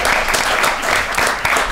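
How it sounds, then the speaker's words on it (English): Brief burst of audience applause at a student welfare Q&A event, a dense, steady clatter of clapping hands from a crowd, heard on its own. "We've got a round of applause for that comment."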